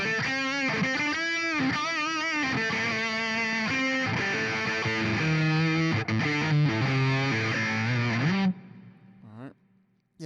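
Electric guitar played through a Bias FX modern metal amp with the distortion at full, loud and saturated, ringing out in sustained chords and riffs for about eight seconds before cutting off to near silence.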